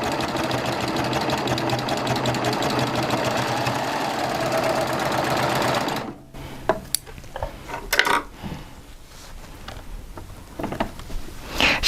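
A sewing machine with a knee lever and a trimming blade stitches flatlock quilt piecing in a fast, steady mechanical chatter for about six seconds, then stops, followed by scattered clicks and handling sounds of fabric and parts.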